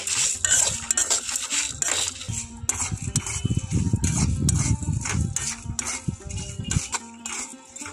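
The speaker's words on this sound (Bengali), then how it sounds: "এই সবগুলো আমি এখন খুব ভালো করে ভেজে নিচ্ছি" Coriander seeds, cumin, fennel seeds and salt dry roasting in a pan for a prawn and jackfruit curry, stirred with steady metal scraping and clinks of utensil against pan, close and fairly loud.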